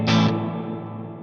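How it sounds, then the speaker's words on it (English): Stereo spring reverb from the ReCoil plugin: a short bright burst fading into a long, wide, metallic decay tail that rings on alone for about a second. "It pans each spring in a different direction, giving you a wide, natural-sounding reverb."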